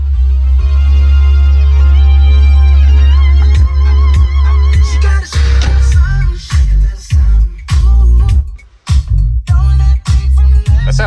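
A song plays loud through an upgraded speaker and subwoofer system inside a Lamborghini Murcielago, with heavy sustained bass, vocals and punchy rhythmic beats filling the cabin.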